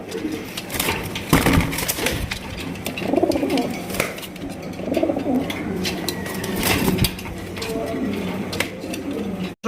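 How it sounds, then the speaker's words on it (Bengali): Black king pigeons coo in soft, repeated low rolling calls close by, mixed with clattering cage or mechanical noise and occasional sharp knocks, with faint voices in the background. "কবুতর এখানে রয়েছে সিঙ্গেল একটা আপনার ব্ল্যাক কালারের এটা কিং কবুতর"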